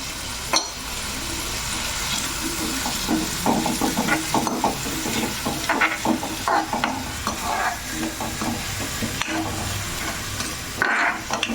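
Onions frying in a pan for a healthy beetroot stir-fry, with a steady loud sizzle and frequent scraping stirs of the spatula throughout, heard close with no talking.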